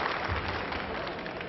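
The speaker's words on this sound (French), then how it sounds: "Et le public applaudit." A crowd claps steadily, a dense wash of applause throughout with no pauses.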